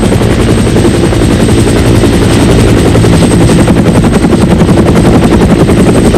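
Military helicopter rotors beat in a loud, continuous, close-up chop, a dense rhythmic thudding that stays steady throughout with no other sounds.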